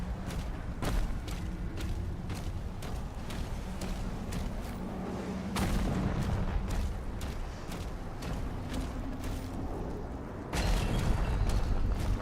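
Hell cannons boom in DOOM: The Dark Ages amid dense game action. Rapid sharp impacts and clanks are punctuated by two heavy, sustained blasts that swell loudly in the middle and near the end.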